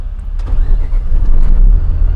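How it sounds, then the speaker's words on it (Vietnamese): A Dongfeng Hoang Huy three-axle truck with a Cummins six-cylinder diesel engine starting up and settling into a loud, steady low rumble close by, with no talk over it. "bây giờ em sẽ nổ máy cái xe Đông Phương này lên cho mọi người cùng nghe tiếng máy"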